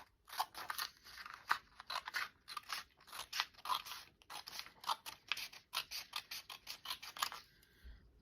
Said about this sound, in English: I'm just going to cut this panel out